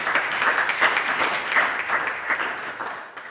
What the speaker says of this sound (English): let's have a big hand for